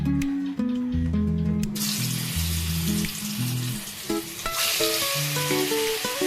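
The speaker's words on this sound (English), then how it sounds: "So first of all, fry the beef first." Beef marinated in turmeric and salt frying in a pan, a loud, continuous sizzle that rises sharply partway through, heard under steady background music.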